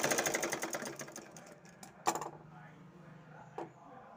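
A sewing machine stitches a waist belt in a quiet, rapid run of stitching pulses that slows and stops, followed by a couple of faint clicks.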